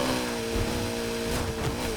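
A widebody Ford GT in the racing game Need for Speed Heat holds a steady, sustained engine drone at constant revs, loud and close, with no talking over it.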